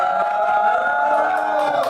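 Studio audience at a live show cheering and whooping together, a steady, loud wall of crowd noise that holds without a break for the whole moment.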